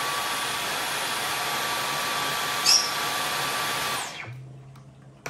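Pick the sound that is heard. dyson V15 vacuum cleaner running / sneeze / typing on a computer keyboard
dyson V15 vacuum cleaner running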